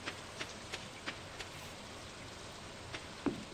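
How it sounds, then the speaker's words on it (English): Rain in the video game Stardew Valley, a faint steady patter with soft periodic tapping sounds over a quiet hiss. "Poor Robin working in the rain"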